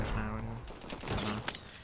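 MAAWS launcher fire in Call of Duty Advanced Warfare, a dense burst of loud booming blasts and rumble with a short second burst, a voice talking over parts of it.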